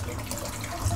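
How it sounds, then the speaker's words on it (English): Water runs into a sink full of shaving lather, rinsing it out with a steady, close gush and splash that continues without a break for the brief moment. "I'm going to rinse the sink out now because it's chock-a-block full of lather."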